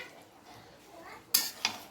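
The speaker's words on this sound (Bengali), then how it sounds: "এখন কষানো হচ্ছে দেখুন" Potatoes are sautéed in a pan for a Durga Puja Navami meal: soft frying sizzle, then two sharp scraping clatters of the stirring spoon near the end.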